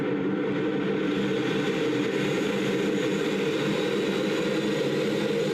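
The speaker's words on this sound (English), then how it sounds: "let's have you guys hear the engines coming alive" Concorde engines spool up in a flight simulator game, a loud, steady, dense roar with a low rumbling drone that holds without pause throughout.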